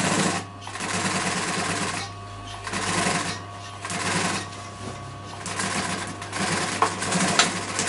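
A sewing machine lock stitches a cushion seam, running in close, steady rapid bursts separated by brief pauses.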